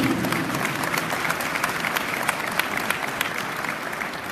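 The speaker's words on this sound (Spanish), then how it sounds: "Recibámonos con un fuerte aplauso" Loud, sustained applause from an audience at a teachers' union leadership workshop, many hands clapping in a dense, continuous patter with a slight crowd murmur underneath.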